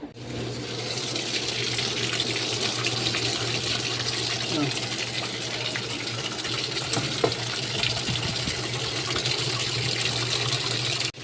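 Strong, steady water gushing from a tap after a defective solenoid valve was replaced, a loud continuous rush with a low hum beneath, running unbroken throughout.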